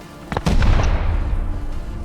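In the game Rust, a pair of sharp blasts hit in quick succession, followed by a loud, rumbling explosion whose roar lingers and slowly fades.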